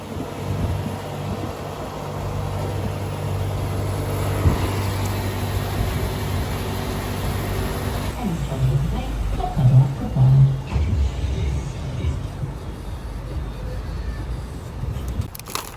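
A car driving on a road between London and Birmingham gives a steady interior rumble with road and wind noise, continuous throughout, with a brief bump of louder low sound partway through.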